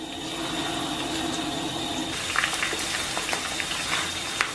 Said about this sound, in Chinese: 咱们把洋葱冷油下锅，